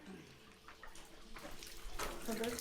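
Water leaks from the top of a fixture in a neglected apartment, a running, splashing trickle that grows louder and busier toward the end, with faint background noise underneath.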